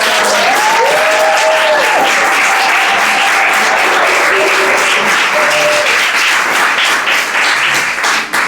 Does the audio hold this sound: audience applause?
yes